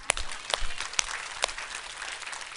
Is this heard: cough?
no